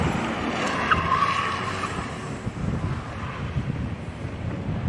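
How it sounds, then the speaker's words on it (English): Tires skid and scrub through a gymkhana handbrake spin at a Witzenberg Motorklub event, the tire noise steady and louder than the quiet car's engine, with wind buffeting the microphone throughout and no talk. "More tire noise than engine noise. That's how quiet that car is."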